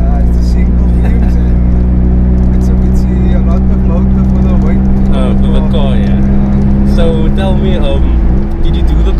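A 1989 Toyota Corolla AE82 with a Beams engine swap, heard from inside as a steady loud engine drone with deep low rumble running throughout, while people talk over it.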